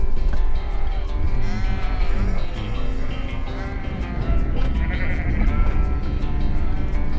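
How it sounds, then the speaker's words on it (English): A flock of sheep being mustered on a Whanganui farm for the sales bleats loudly and continuously, many overlapping calls near and far over a dense, constant bed of animal noise. "The farm owner was mustering sheep for the sales"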